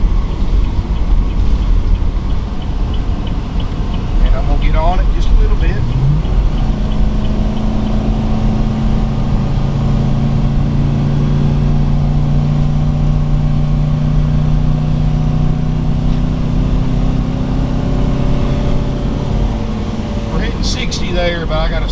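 A 2014 Coachmen Concord 300TS Class C motorhome's engine drones steadily and rises in pitch as it accelerates on a highway, with road rumble throughout and a person speaking intermittently over it.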